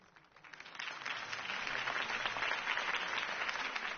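A crowd applauds loudly at a video-game political campaign rally, the clapping swelling quickly from quiet to a steady, dense roar that holds to the end.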